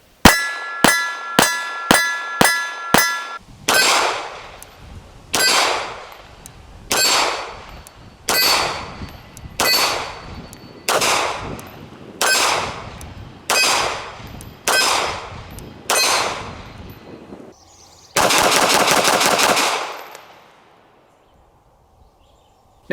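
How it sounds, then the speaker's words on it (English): 9mm CZ-75 style pistol fired at steel targets, a quick string of six sharp shots followed by about a dozen evenly spaced louder shots with ringing metallic clangs, then a longer sustained ring from the steel before the sound fades to quiet. "I just ended up shooting steel just to show you what kind of accuracy you can get with"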